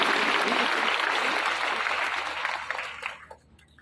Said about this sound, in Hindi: बेटा जोरदार तालियों से बच्चों का उत्साह वर्धित कीजिए।